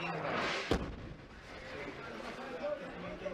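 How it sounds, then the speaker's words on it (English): A single sharp US airstrike explosion goes off in a devastated old city, a sudden heavy thud ringing out early amid a faint wash of background noise, with some voices around it. "That was a US airstrike."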